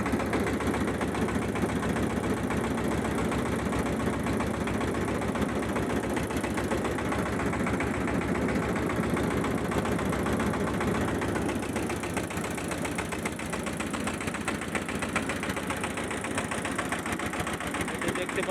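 A motor boat engine running on the Teesta river near a barrage, a loud, steady mechanical chugging that drones without pause throughout, with voices talking faintly underneath.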